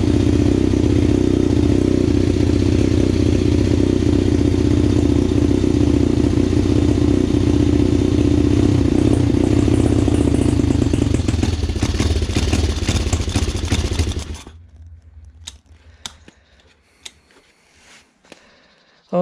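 A pit bike engine runs loud and close with a steady rough mid-pitched drone and rattle, then cuts out, leaving a few sharp clicks and clanks in near silence.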